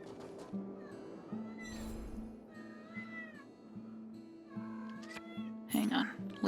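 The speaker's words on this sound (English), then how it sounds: "Oh my goodness, my little kitty" A cat in the Honkai Star Rail game lets out a string of repeated meows, some drawn out and wavering, over soft steady background music, ending in a louder burst.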